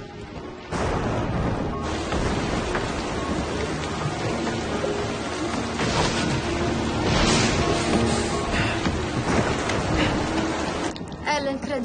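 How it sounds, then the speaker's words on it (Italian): Heavy rain pours steadily with rolling thunder booming through a storm in a house setting, loud and continuous throughout. "Sta piovendo molto forte."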